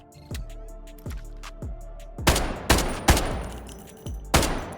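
Rapid gunfire in the shooter game Delta Force with M62 legendary ammo, several sharp close shots in quick bursts, the last few louder and echoing, with no talk.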